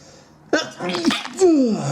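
A single loud sneeze bursts out after a quiet lead-in, with a sharp onset and a tonal trailing exhale, close to the microphone.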